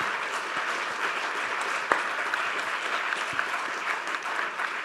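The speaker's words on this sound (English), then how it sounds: "A big round of applause for our panel." An audience at a fisheries and aquaculture sector event gives a panel a sustained round of applause, an even, dense clatter of many hands with a few sharper claps standing out, continuing steadily throughout.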